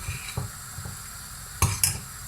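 Spoon stirring milky rice pudding in a pot on the stove: steady scraping with two sharper metallic clinks near the end, close and with no talk.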